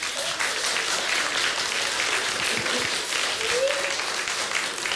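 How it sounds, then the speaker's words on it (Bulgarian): A crowd applauds steadily and loudly, dense clapping filling the whole stretch without a break, with faint voices mixed in beneath it. "Аплодисменти."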